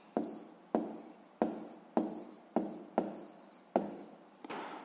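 Seven crisp strokes of a pen or pencil on paper, evenly spaced about every half second, close and dry, each a sharp scratch that fades quickly, with a short softer rub at the end.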